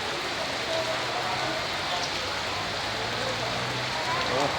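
Heavy rain pours steadily outside a district office in Thailand where people queue for vaccination, a dense, even hiss of drops hitting surfaces that continues throughout without a break.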